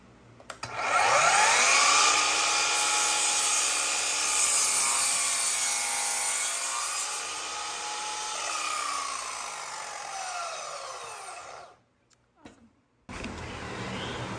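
A power tool mills walnut boards for a bookshelf frame, a loud close whining roar with a shifting pitch as the wood passes through, then it winds down, cuts out briefly and restarts near the end.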